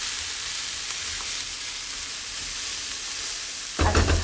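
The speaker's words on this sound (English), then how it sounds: "I'm just going to keep frying that off." Seitan fries in a pan with a steady, close sizzle, and a sharper, louder crackle bursts in near the end.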